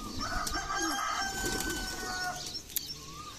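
Pigeons out on a rooftop near their loft, with bird calls and cooing over a steady outdoor background, a faint pitched tone running underneath and a brief tap near the end.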